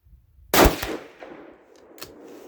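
A single 6mm ARC rifle shot firing a Hornady 65gr V-MAX load cracks sharply and loudly on a cold, calm day outdoors, then a booming echo decays, with a faint click shortly after.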